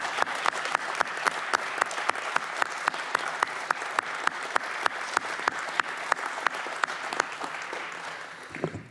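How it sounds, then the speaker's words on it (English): Sustained applause fills a congressional committee markup hearing room, steady and dense for several seconds with sharp individual claps standing out, then tapering off at the end. "offer an applause for the folks that are leaving."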